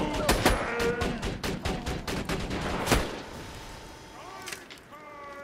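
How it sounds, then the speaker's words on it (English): Corrosive sniper rifle fire in Borderlands 2, a burst of sharp cracking shots in quick succession followed by one heavier blast and fainter scattered pops with game effects. "I'm gonna need a corrosive sniper for a moment"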